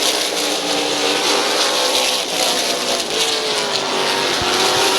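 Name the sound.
race cars racing side by side at a speedway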